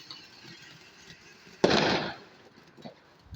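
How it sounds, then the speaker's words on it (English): A single firework bursts on Bonfire Night after a quiet stretch of faint background noise, a sharp loud crack followed by a short crackling decay. "I can hear a big firework."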